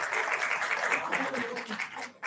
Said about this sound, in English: Kindly welcome our delegates with a big round of applause.